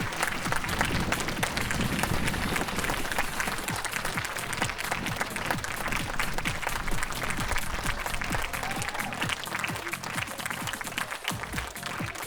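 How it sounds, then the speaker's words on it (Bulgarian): Sustained audience applause at a sports dance club concert in Nesebar, dense steady clapping from a large crowd filling the whole stretch, with a few sharper individual claps standing out near the end. "Аплодисменти!"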